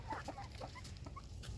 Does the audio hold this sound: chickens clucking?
yes